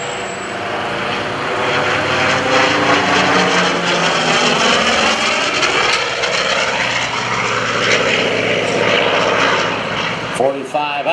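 An F4U Corsair propeller fighter flies a Cuban 8 aerobatic maneuver at the 2011 Boston Portsmouth airshow. Its loud, continuous radial-engine roar shifts in pitch as the plane pulls through the loop, sounding close throughout.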